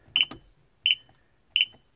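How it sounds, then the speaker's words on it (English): A McHale F5500 baler control box gives three short, sharp beeps at even intervals on reset, each clear and close against a quiet background. "And then it's supposed to beep and it goes back to zero."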